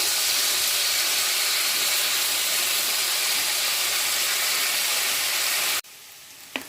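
Potatoes frying in a pan with green chillies, a steady loud sizzling hiss close by that cuts off abruptly near the end, leaving a quiet room with a small clink.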